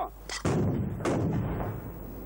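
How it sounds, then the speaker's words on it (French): A dust explosion fed by two buckets of dust goes off, set alight by a firecracker: a small crack followed by two heavy, booming blasts with rolling rumble, loud and near, no talking. "Cette explosion n'a été alimentée que par 2 seaux de poussière."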